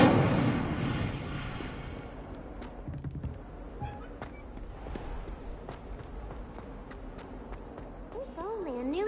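Incendio fire spell cast in Hogwarts Legacy on PS5: a loud whooshing burst at the start, then rumbling game ambience with scattered thumps and a warbling tone near the end.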